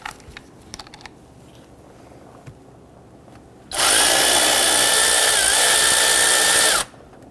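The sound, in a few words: power tool removing a stud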